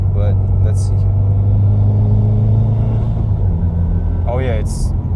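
A Subaru WRX fitted with a solid or Group N transmission mount drives with a loud, steady engine rumble close by, while a voice talks over it.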